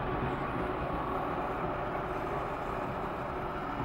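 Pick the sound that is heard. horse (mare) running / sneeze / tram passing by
tram passing by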